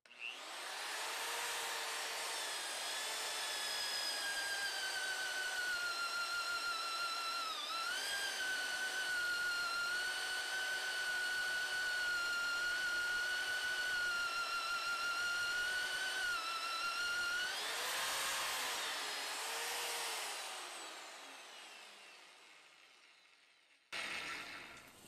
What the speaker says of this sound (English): the biggest annular cutter I have on my mag drill. So let's cut it.